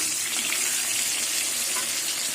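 Slices of pointed gourd (potol) fry in hot oil, making a soft, even, continuous hiss and sizzle that stays close and unbroken throughout.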